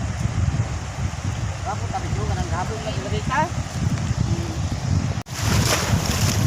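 Strong wind and waves along the shore of a bay, a constant rushing roar with gusts buffeting the microphone, while a voice talks briefly in the middle.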